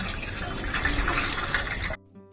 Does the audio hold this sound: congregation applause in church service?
no